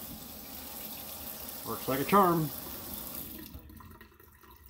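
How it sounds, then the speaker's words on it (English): Water runs from a kitchen faucet in a tiny house, a soft steady stream under brief nearby talk, then shutting off into quiet. "So when I turn on the water,"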